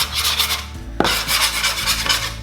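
Plastic dough scraper pushed and dragged across a ball of yeast bread dough on a work surface, giving soft continuous rasping and rubbing strokes with one sharper scrape near the middle, close and alone.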